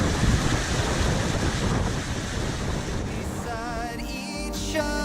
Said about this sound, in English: It turns to rapids.